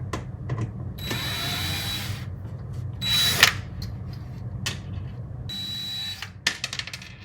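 A power drill drives screws into an Arcade1up arcade cabinet in several short whirring bursts separated by pauses, close and fairly quiet.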